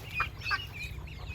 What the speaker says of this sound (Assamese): এইফালে চাব পাৰে আমাৰ হাঁহ পোৱালি কেইটা,